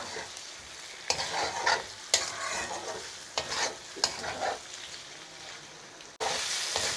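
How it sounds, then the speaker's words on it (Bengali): Pieces of duck meat fry with spices in a hot pan, giving a constant sizzle broken by a handful of sharp stirring scrapes, heard up close with no voices. "আপনারা এইভাবে কিছুক্ষণ ভাজে নেবেন, যাতে মাংসের সাথে সব মশলাগুলো ভালো করে মিশে যায়"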